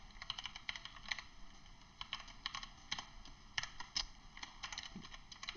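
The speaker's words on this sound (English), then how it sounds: "I'm going to type out the question." Steady typing on a computer keyboard, quick clusters of soft key clicks in uneven bursts, close but quiet, with no talking.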